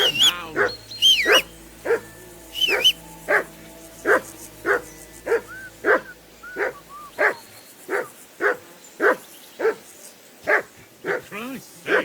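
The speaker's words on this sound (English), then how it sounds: "Be quiet, you flea-bitten hound." In the video game Kingdom Come Deliverance 2, a dog barks repeatedly in sharp, evenly spaced single barks over several seconds, close and loud, with occasional whines between them.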